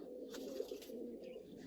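A female pigeon, a red-checkered hen, coos softly from inside a cage, with a low, steady murmur running through the whole stretch. No one speaks.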